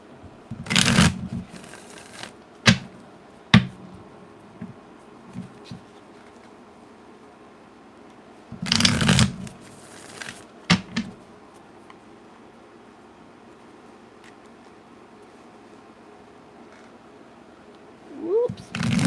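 Tarot cards being shuffled in several separate loud bursts of rapid riffling and flapping, with quieter taps and handling in between, close to the microphone.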